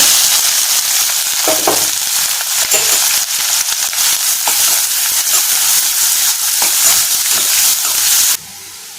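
Chopped onions and green chillies frying loudly in hot oil, a dense, continuous crackling sizzle that cuts off suddenly near the end.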